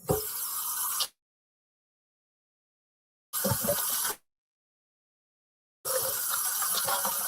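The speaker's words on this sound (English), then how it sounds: "I'm gonna do one more rinse." Cold running tap water splashes over raw meat being rinsed, coming in three separate bursts of a second or less with silent gaps between them, fairly close and steady while it flows.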